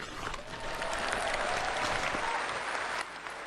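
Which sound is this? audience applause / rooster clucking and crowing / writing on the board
audience applause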